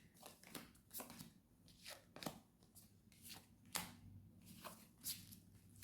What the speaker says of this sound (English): I will shuffle, but it's just making sure we've got everything shuffled well.